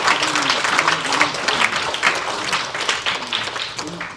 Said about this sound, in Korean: 우리 박수 한번 하겠습니다